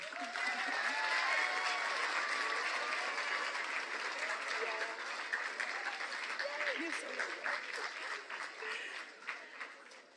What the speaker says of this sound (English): You can clap for the seniors now.